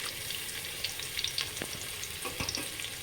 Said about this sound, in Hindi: इसको थोड़ा फ्राई कर लेंगे हम प्याज को ऐड करने के बाद